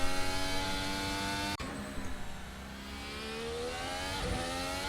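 A Hybrid Series race car at Albert Park, Australia screams at full revs, a loud, tonal engine wail that drops sharply with a gear change and then climbs steadily again, with no voices.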